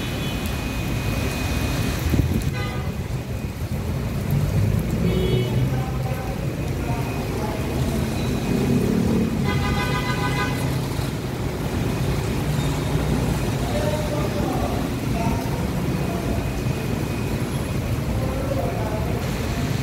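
Heavy sudden rain pours down in a dense, constant roar that holds strong throughout, with faint passing traffic and occasional tonal chirps mixed into the downpour.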